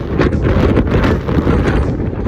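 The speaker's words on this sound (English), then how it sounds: "It is really windy" Strong coastal wind buffets the microphone in a steady, loud roar with low rumbling gusts throughout, no voices heard, on a coastal path between Penzance and Porthleven.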